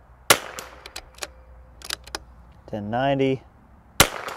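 Rifle fired during a chronograph velocity test, two sharp single gunshots about four seconds apart with clicks of handling between, and a voice briefly reading out a number.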